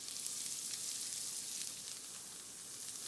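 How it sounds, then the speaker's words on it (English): Onions sauté in a pan with a soft, even sizzle that holds steady the whole time, quiet and close, with no voices. "we're going to start off with just sauteing these onions up"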